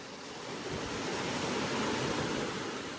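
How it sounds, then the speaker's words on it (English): Adriatic Sea waves wash in at Boka Bay in a steady, broad rushing hiss, swelling slightly and sustained without a break, with no voices. "listen to the sounds of the Adriatic Sea"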